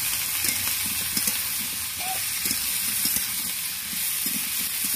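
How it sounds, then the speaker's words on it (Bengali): Raw potato pieces sizzling in hot oil for a Bengali chicken curry, a steady close frying hiss with soft scraping and stirring clicks throughout. "আলুটাকে সামান্য পরিমাণ নেড়ে নিলাম।"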